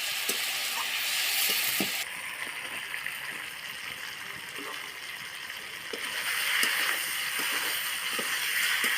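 Broadband frying sizzle of Bengali-style stingray fish curry cooking down in a pan at home, steady and moderately loud throughout, with faint clinks and stirring taps under the hiss.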